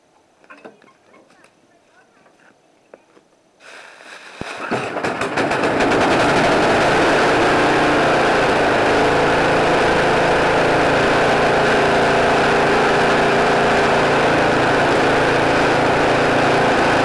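An engine cranks and catches after a few quiet seconds of shuffling, then roars into a loud, steady rattling run that carries on for over ten seconds.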